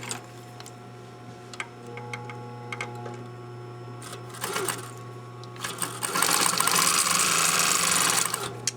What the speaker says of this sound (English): I'll start sewing down this side.